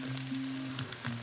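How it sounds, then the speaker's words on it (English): Herb-dough perogies sizzle and fry steadily as they brown in a pan, a close, continuous crackle with faint stirring noises and no talking. "We're beginning to hear that little sizzle"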